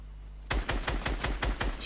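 Rapid gunfire in the video game Fortnite bursts out after a moment of quiet, a quick string of about eight sharp shots in close succession, loud and near.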